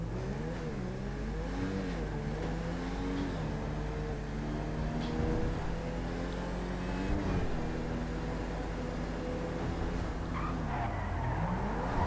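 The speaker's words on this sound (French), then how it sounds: "on va tester le bruit du moteur maintenant" A customized SUV's engine in GTA Online revs up and down repeatedly, its tone rising and falling in steady waves over a constant rumbling drone, loud and unaccompanied by voices.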